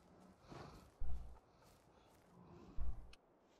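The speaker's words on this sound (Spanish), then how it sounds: "Eso es un oso, boludo." A bear in the survival video game Miscreated lets out two short, deep, rumbling roars about two seconds apart over quiet ambient noise.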